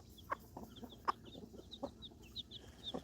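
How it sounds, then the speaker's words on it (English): Chickens and young chicks cluck in a homestead coop at evening chores, with several short soft clucks spaced irregularly over a steady chirping of chicks, faint and close. "he's probably one of the dads in here with some of these baby chicks"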